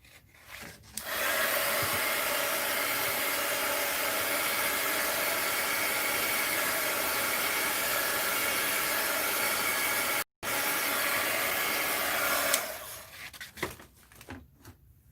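A hair dryer blows on mixed-media artwork with a loud, steady broadband whoosh that runs for about eleven seconds, breaks off for an instant, resumes, then switches off to quiet handling sounds.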